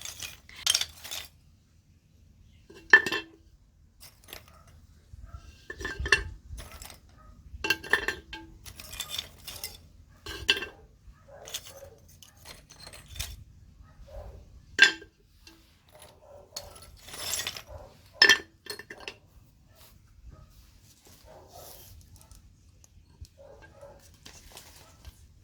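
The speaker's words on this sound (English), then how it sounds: "are pieces of broken pots, which I always keep aside for future uses." Broken pot shards clink and clatter as they are picked up and set down while a cymbidium orchid is repotted, with sparse, uneven taps and chinks close by and quiet gaps between them.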